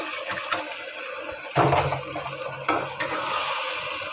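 Potatoes and shrimp hit a hot pan for a Bengali stalk-and-shrimp curry, a louder sizzle bursting in partway through and a second surge later, with steady frying hiss and stirring throughout and no one talking.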